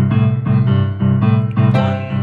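Boogie woogie piano playing a 12-bar blues pattern in whole notes, with loud, full chords struck roughly once every half second in a brief, close passage and no talking.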